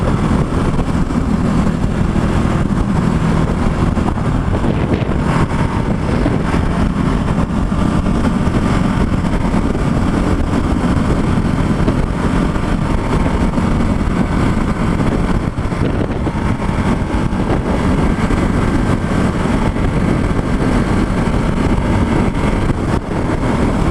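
Ducati Hypermotard motorcycle engine running continuously on a ride near Concord, California, a loud, steady close-up drone mixed with heavy wind rush and no clear breaks.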